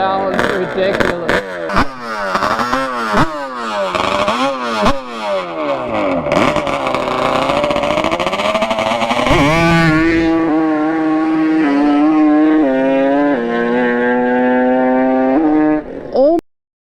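A custom 130 hp Yamaha Banshee ATV engine revs hard in a lot, loud rapid rising-and-falling blips giving way to a sustained high-pitched racing wail that cuts off abruptly near the end.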